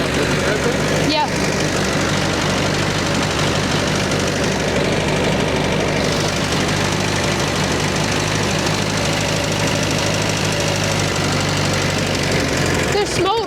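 An old Ford 8N tractor engine runs rough and knocks close by, a steady loud mechanical clatter with uneven pulsing throughout, while people talk now and then over it.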